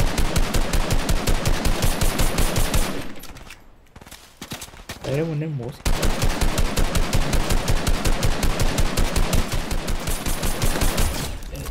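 Rapid automatic gunfire rattles in the video game Fortnite, loud sustained bursts broken by a short lull that carries faint game sounds and a brief spoken remark, then continuous firing resumes.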